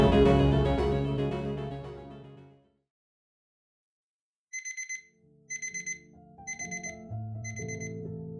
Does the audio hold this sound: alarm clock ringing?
yes